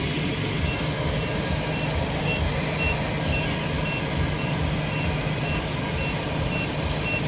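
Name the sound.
traffic with a vehicle's reversing beeps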